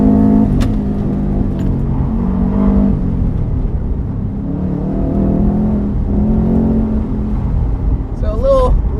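A 2006 Subaru STI engine pulls and revs steadily while driving, a loud continuous drone with shifting pitch throughout.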